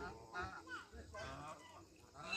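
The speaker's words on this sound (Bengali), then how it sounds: "ষোলোটা হাঁস কি সুন্দর ভাসছে" Ducks floating on a lake at Sattal, giving several honking, quacking calls close by over a soft outdoor background.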